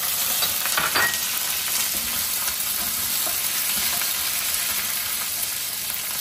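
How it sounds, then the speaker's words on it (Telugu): Dried red chillies and cumin fry in hot oil with a steady, dense sizzle and crackle, close and continuous, with occasional faint scraping of a stirring spoon. "ఇవి కూడా కొంచెం ఫ్రై అవనిద్దామండి, ఎండుమిరపకాయలు, జీలకర్ర కూడా"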